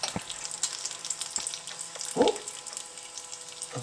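Bacon fries in a pan with a steady, close crackling sizzle, broken by a few light taps and one sharper clank of a utensil partway through.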